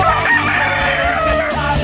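A White Kelso gamefowl rooster crows loud and close, its voice a continuous call that fills the whole short stretch with no talking.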